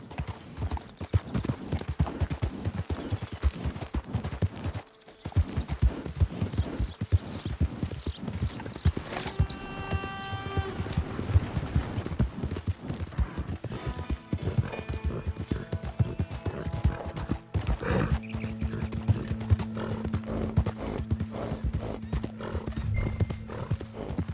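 A horse gallops in Red Dead Redemption II, its hooves pounding in a fast, steady clip-clop rhythm, broken midway by a couple of loud, shrill whinnies and neighs, with a low droning hum near the end.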